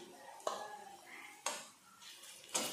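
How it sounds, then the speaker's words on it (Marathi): Ginger-garlic paste stirred into browned onions in a pan for kabuli chana usal, three distinct spoon scrapes against the metal pan spaced about a second apart over a faint sizzle. "हे पण छान परतून घ्यायची कांद्यामध्ये।"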